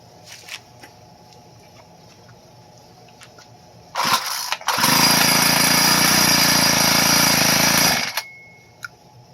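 A small two-stroke weed whacker engine with a newly replaced carburetor sputters, then roars steadily at high pitch for about four seconds and cuts out. It is close and loud, with faint clicks before and after.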